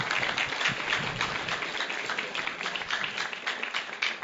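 A seminar audience gives a round of dense, steady hand clapping at moderate volume, sustained evenly for several seconds with no break.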